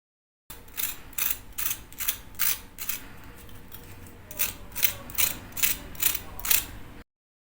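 Close, crisp crunching of crispy fried macaroni pakora in a steady rhythm, about a dozen sharp bites or snaps in two bursts with a short quiet gap, no speech.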